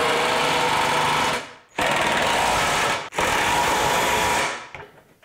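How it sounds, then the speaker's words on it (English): An impact driver tightens a lock nut on a bolt held by a 17 mm wrench, firing in three loud, rapid hammering bursts separated by short pauses, close and alone. "I'm gonna put a 17 millimeter wrench down here on the bottom of the bolt, then my impact driver on the nut here."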